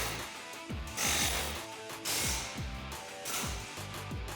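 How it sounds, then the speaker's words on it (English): An air hammer rattles in rapid bursts, knocking bolts out of the front spindle on a 2015-2018 Mustang GT during a lowering spring install, loud and close in a shop. "We're gonna use the air hammer to knock these bolts out of the spindle for us."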